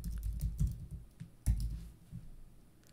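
Typing on a computer keyboard at a desk, with soft close-up keystrokes arriving in irregular bursts and short pauses, loudest around a few heavier presses.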